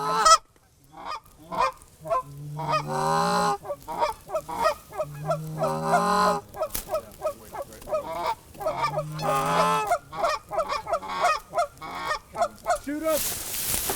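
Big geese honk loudly and repeatedly as they come in to a small hole in a Nebraska slough, with a few brief voices between the calls.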